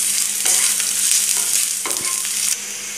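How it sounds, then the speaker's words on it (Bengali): Chopped garlic frying in oil in a pan for village-style taro leaf curry: a loud, continuous close sizzle with a few brief stirring clacks, and no voices. "এখন আমি সবগুলো উপকরণকে একটু ভালোভাবে ভেজে নিব।"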